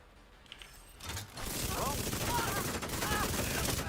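A submachine gun fires in a video game mission, giving a continuous loud burst of rapid shots lasting several seconds, with mechanical clatter and faint whistling effects mixed in.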